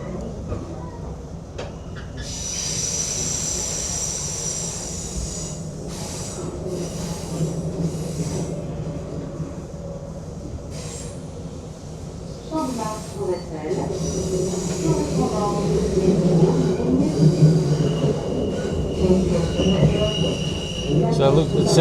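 A moving train in Paris rumbles steadily with high wheel squeal and rattling carriages, growing louder toward the end, with faint voices underneath.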